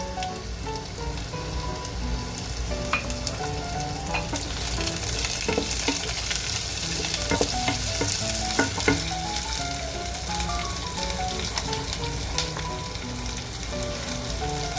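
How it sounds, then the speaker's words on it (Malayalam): Garlic, ginger and green chillies fry in oil for a pickle. A dense, loud, continuous crackling sizzle like heavy rain runs close up throughout, with scattered sharper pops and occasional stirring clatter. "ഇനി നമുക്ക് ഇഞ്ചി പച്ചമുളക് എല്ലാം ചേർത്ത് കൊടുക്കാം"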